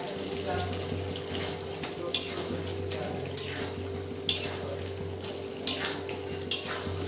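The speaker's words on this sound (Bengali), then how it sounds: "ভালো করে মিশিয়ে নিয়ে আবারও ঢেকে দেবো।" Chicken curry with yogurt and grated tomato simmers and sizzles in a pan on a steady low hiss, while a spoon scrapes and clinks against the pan every second or so.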